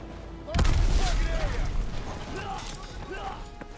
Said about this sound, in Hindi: अचानक बहुत फायरिंग हुई है